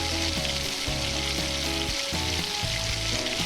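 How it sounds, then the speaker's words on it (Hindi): Bay leaf, cloves, black peppercorns and cumin seeds sizzling in hot oil for chicken nihari, a loud, steady, close crackle with faint stirring and no talk. "अब मैं इसके अंदर डाल रही हूँ तेज़पत्ता और सारा खड़ा मसाला, जैसे लौंग, काली मिर्च और ज़ीरा।"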